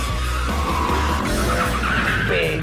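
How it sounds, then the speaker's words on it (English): A BMW M5 with a naturally aspirated 500-horsepower V10 drives hard, its engine roaring loud and close throughout as the tires squeal and skid in a steady, continuous rush. "This is the outgoing M5 in action"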